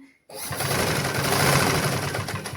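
A sewing machine stitches a sarong (lungi) seam, running steadily and close after a brief silent start, with a continuous mechanical whir for the rest of the clip.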